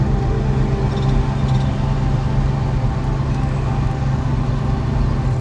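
A Studebaker car under power while driving, its engine a steady, loud low drone with road and cabin noise, continuous and close without a break.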